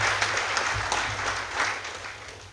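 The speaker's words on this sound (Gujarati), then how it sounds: "એવા દેવાંગીબેન હજુ તાળીઓના અધિકારી છે." An audience at a talk on food, health and Ayurveda bursts into brief applause, a dense patter of many hands clapping together for a few seconds.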